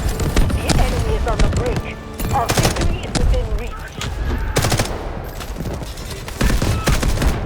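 Rapid gunfire from an M4A1 rifle in Delta Force: Hawk Ops, with dense bursts and scattered shots cracking loudly throughout, some overlapping, and voices heard at times.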